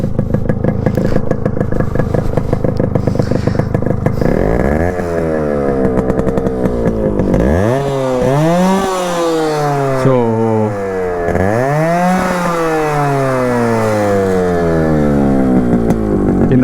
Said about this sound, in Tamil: இந்த சத்தத்துக்காக தான் வந்து நிறைய பேர் வந்து இந்த பைக் வந்து லைக் பண்ண ஆரம்பிச்சாங்க